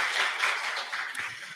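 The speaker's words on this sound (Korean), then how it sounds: "다시 한번 박수 부탁드립니다" Brief, soft applause from a small audience at a public hearing in Seo-gu, Busan, a quick patter of clapping that fades within a couple of seconds.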